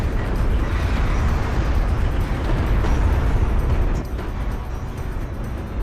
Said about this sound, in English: Barrage is really good as far as damage goes on the railguns there